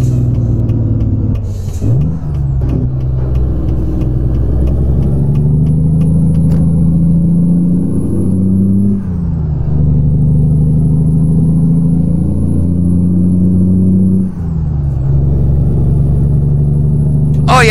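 A Freightliner Argosy truck engine in American Truck Simulator drones loud and steady, rising through revs and dipping briefly at gear shifts about every few seconds, with a faint high whine above.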